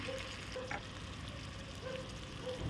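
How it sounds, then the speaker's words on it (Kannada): Onion and chopped tomato frying in a pan, giving a quiet, continuous sizzle with a few light taps of a spoon against the pan, steady and close with no talking. "ಇದೀಗ ಈರುಳ್ಳಿ ಚೆನ್ನಾಗಿ ಫ್ರೈ ಆಗಿದೆ."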